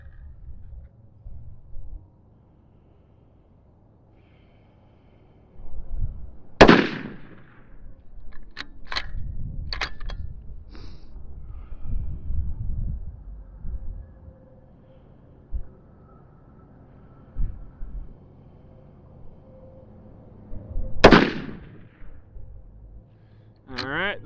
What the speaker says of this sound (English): that's our 3-shot group with that Hornady Black